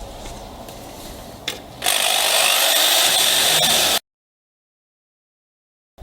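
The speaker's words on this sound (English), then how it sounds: "Let's see if we can drill this thing, eh?" Power drill boring into a Lockwood 130/70 padlock, a loud steady grinding whine for about two seconds after a brief start, then cutting off into silence.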